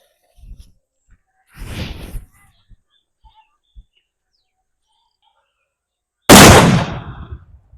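A 10.5-inch gold Valangaiman country cracker goes off with one loud, sharp blast that rings out and decays, preceded by a longer, quieter burst and scattered small pops outdoors.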